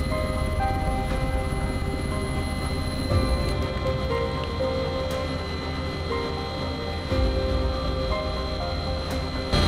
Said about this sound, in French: on rembarque encore en hélico.